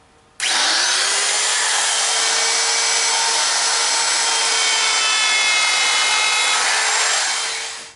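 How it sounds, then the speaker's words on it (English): A power sander works across the top of a heavy wooden cutting board, starting abruptly and holding a loud, steady whir for several seconds before easing off at the end, with no talking. "Now I just need to sand the top."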